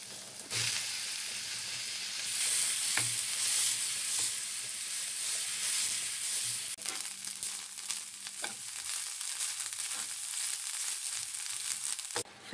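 Food fries steadily in a pan, a continuous bright sizzle with occasional crackles and pops running throughout, close and fairly loud with no talking.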